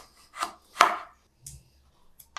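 A knife cutting thin-skinned lemons on a board, a few separate sharp chops with quiet gaps between them, close and dry.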